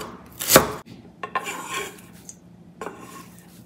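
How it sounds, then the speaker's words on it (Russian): Knife chopping greens finely for a cabbage salad on a board, a sharp loud cut followed by a few quicker softer chops and scrapes, alone without talk. "Мелко измельчаем."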